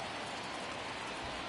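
Steady rain falling in a baseball video game, a dense, even hiss of drops with no breaks, fairly faint and heard alone.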